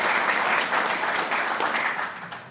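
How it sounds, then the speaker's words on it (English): A dense, continuous round of applause from a lecture audience at the Annual James Connolly Lecture 2023 in Belfast, many hands clapping at once, steady throughout and tapering slightly at the very end. "give them a round of applause"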